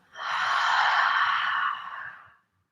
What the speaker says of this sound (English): Big breath in. Exhale, let it go.